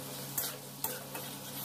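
Kathla fish frying in oil with turmeric and salt gives a faint, steady sizzle, marked by two small clicks of a utensil touching the pan.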